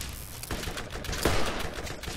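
Revolver gunfire in the Borderlands video game: several sharp shots crack out in quick succession over a busy, steady game soundscape, with one stronger blast near the middle.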